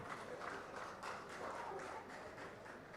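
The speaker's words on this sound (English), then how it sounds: "Can we have a round of applause for all our dignitaries?" Audience applause for dignitaries at the opening of a golf tournament, the Bengaluru Open, a steady faint wash of many hands clapping at a distance with a few louder claps standing out.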